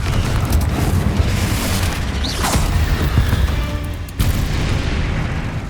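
Spell combat in the Hogwarts Legacy video game with a Confringo blast: dense, continuous booming and crackling impacts that fill the whole stretch, with a sharp new burst near the end.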